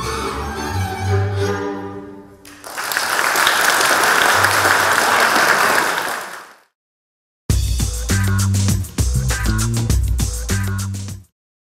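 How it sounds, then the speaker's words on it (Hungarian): Students give a folk music ensemble a burst of loud, dense applause that swells and then fades out, bracketed by snatches of lively music before and after. "így nagy tapssal jutalmazták az együttes tagjait"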